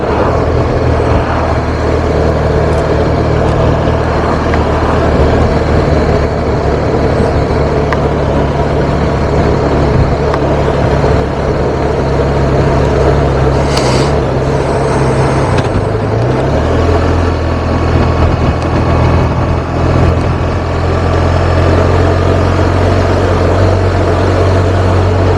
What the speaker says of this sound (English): today I'm riding the BMW R1250RT, and this feels like a gigantic fat lump